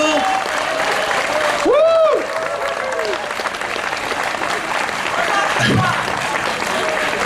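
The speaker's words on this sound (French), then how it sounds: "Bravo encore, une heure d'applaudissements." Audience applause at a performance fills the scene with loud, continuous clapping from a crowd, a voice speaking over it and a brief whistle or cheer rising through the middle.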